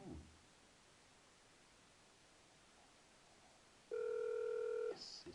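After several seconds of quiet hiss, a single electronic telephone ringing tone sounds for about a second on a broadband customer service call, steady and clear over faint background noise.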